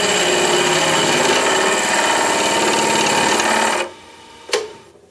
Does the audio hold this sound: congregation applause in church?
no